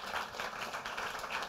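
Faint, steady audience clapping from a moderate distance, a soft even patter of many hands at a Wikimedia fellowship program presentation.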